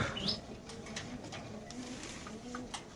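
Racing pigeons at a pigeon market coo steadily in low, throaty murmurs, close by over a faint busy background, with a brief higher chirp near the start and no clear talking.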